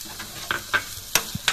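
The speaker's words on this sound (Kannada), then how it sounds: "ಸ್ವಲ್ಪ ಇದು ಫ್ರೈ ಆಗಲಿ. ಈಗ ಈರುಳ್ಳಿ ಫ್ರೈ ಆಯಿತು." Chopped onions and green chillies fry in a pan for a chapati egg roll, with a soft sizzle beneath a few quick scraping stirs and small clicks spaced across the brief stretch. No one speaks.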